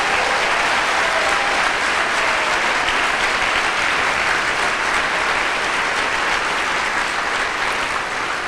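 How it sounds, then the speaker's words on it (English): Sustained applause from the audience at a 2012 foundation awards dinner, a dense, loud wash of clapping that stays steady throughout with no break or talk. "So they deserve one more round of applause."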